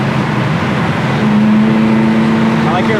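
A 1967 Pontiac GTO V8 with a 4-barrel carburetor pulls hard at speed in third gear, a loud continuous engine roar with a rising tone from inside the car.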